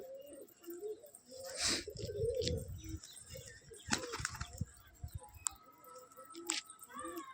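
A pigeon on a house rooftop gives soft cooing amid bursts of flapping wings and scattered rustling, fairly faint and intermittent, with a few brief louder flutters.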